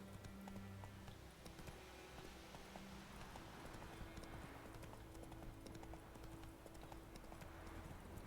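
Horse hooves clip-clop steadily in The Witcher 3: Wild Hunt, a quiet, even trotting rhythm set against a soft game ambience with music underneath.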